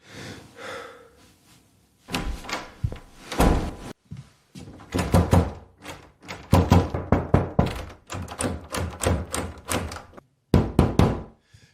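A fist pounds on a door at night, loud close knocks and thuds in repeated urgent bursts with short pauses between, a few heavier slams among them.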